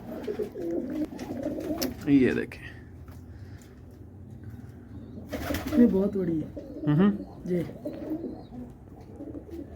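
White pigeons of a local breed coo repeatedly close by, low throaty calls coming in bursts while someone talks over them.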